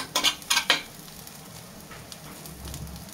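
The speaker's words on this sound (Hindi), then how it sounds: "बहुत अच्छे से फ्राई हो रहे हैं फ्रेंड्स।" Sliced raw banana sabzi frying over low-medium heat in a pan, a few quick spatula scrapes and clatters at the start, then a soft steady sizzle close by.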